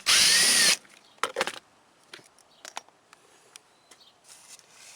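A quarter-inch impact driver whirs briefly and loudly at the start while backing out T20 Torx screws, followed by scattered light clicks and taps of screws and tools being handled.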